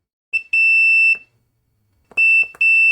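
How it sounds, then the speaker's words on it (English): A multimeter in continuity mode gives sharp, loud electronic beeps as a monitor button switch is pressed, one short beep, a longer tone, then a brief pause before two more tones in quick succession. "Continuity mode again, so it should beep when I press the switch."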